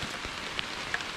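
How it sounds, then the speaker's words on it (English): Steady outdoor rain falling during fiber-optic cable lashing work, a continuous soft hiss with a few faint drops standing out, no talking. "As you can see, it's raining."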